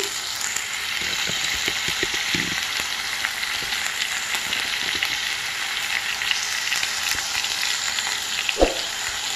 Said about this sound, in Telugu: ఈ విధంగా ఫ్రై చేసుకోవాలి. చూడండి బాగా వేగాలి ఫ్రెండ్స్.